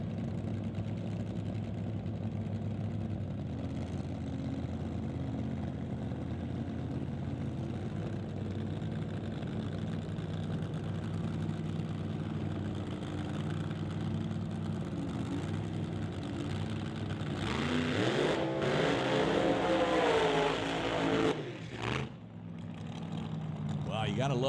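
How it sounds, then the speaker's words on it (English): A 1948 Fiat Topolino exhibition drag car runs at an old-time drag strip, its engine droning steadily and loudly, then swelling into a rougher, rising roar near the end beneath an announcer's voice. "got to love that little 48 Fiat Topolino"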